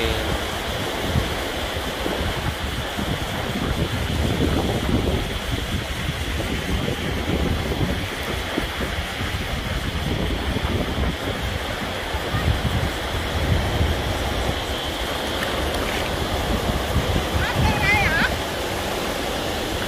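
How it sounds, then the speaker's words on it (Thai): Sea waves wash steadily onto the sand at Chao Lao Beach in Chanthaburi, Thailand, a continuous broad roar with wind buffeting the microphone and faint voices in the background. "คลื่นทะเล"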